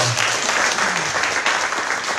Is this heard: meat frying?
no